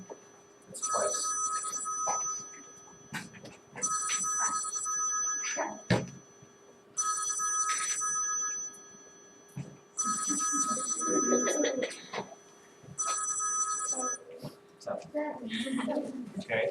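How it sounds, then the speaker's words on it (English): An old-style telephone bell rings in several long electric trills with pauses between them, loud and near, with a thunk and some talking in the gaps. "there's that phone call I never wanted. How many times will it ring?"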